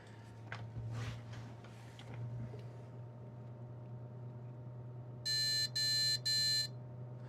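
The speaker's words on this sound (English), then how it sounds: "I'll stick him a beep speaker in," Diagnostic beep code from a small beep speaker fitted to a desktop computer on a repair bench: three short, even electronic beeps near the end, over a steady low hum and faint handling noise.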